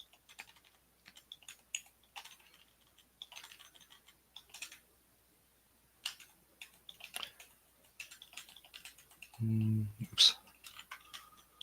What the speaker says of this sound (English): I'm on my gaming keyboard